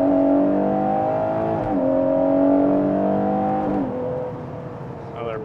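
A race car engine drones steadily as it accelerates out of a slow second-gear corner, its pitch climbing smoothly with a brief dip at each upshift, then easing off as the car brakes, loud and close throughout.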